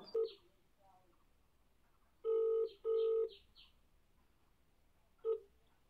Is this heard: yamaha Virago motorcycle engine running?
no